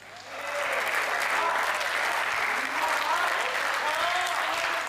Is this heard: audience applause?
yes